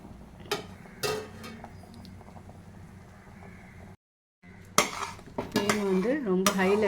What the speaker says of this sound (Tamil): வச்சு நல்லா கிளறி விடலாம்